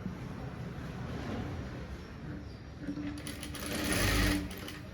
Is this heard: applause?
no